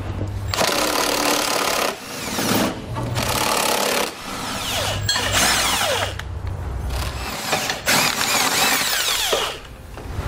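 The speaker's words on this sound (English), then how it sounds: "So I'm gonna grab a 17 millimeter socket and pull out the two bolts that are holding each one in place." A power socket tool on a 2013 Lexus RX 350 removes tow hook bolts, running in several loud whirring bursts of about two seconds each with short gaps between them, close up and alone.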